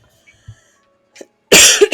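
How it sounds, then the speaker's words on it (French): A single sharp, close cough bursts out after a near-silent stretch with a few faint small clicks and a brief breathy sound. "J'arrête pas de tousser aujourd'hui"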